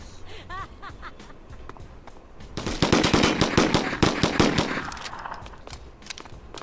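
Gunfire in the video game 25 to Life: after a few quiet seconds, rapid automatic bursts crack loudly and close for several seconds, then trail off, with a brief voice heard early on.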